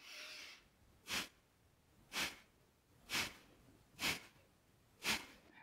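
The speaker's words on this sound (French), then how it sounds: "on peut faire une respiration de feu qui soit moins rapide" Five sharp, forceful breaths through the nose in slow yoga breath-of-fire breathing, evenly spaced about a second apart, close and quiet with near silence between them.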